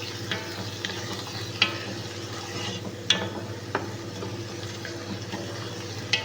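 Green rice being stirred in a pan, a steady soft scraping and sizzling texture with occasional sharp clinks of the utensil against the pan, close and continuous with no talking.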